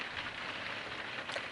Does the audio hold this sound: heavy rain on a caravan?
yes